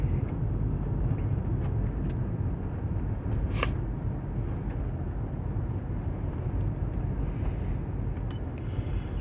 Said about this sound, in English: I'm going to take it out here and just show you what it's like at speed.